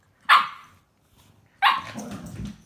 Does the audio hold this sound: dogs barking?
yes